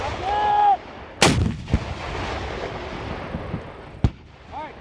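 AT4 or SMAW rocket launcher fired by Marines on a range, one sharp loud blast followed by a second distant crack, with a shout before the launch and outdoor ambience between.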